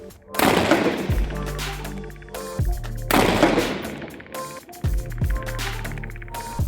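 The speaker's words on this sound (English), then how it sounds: "the tripod helped me get the last 3 shots practically on top of each other" A 5.56 rifle fires from an Athlon Midas CF32 tripod: loud, close shots, with two big blasts spaced a few seconds apart and several lighter reports between them, each trailing a short echo.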